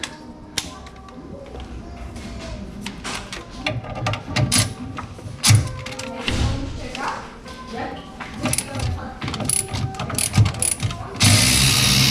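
A ratchet wrench turns a 14 mm top fork bolt on a Honda Civic EG, with rapid close clicking bursts repeating through the clip, mixed with metal taps and occasional talking.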